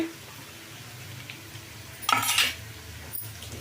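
Capsicum for egg fried rice sizzles softly in a pan, then a spoon stirs it with a brief burst of scraping and clinking, followed by a single lighter clink near the end.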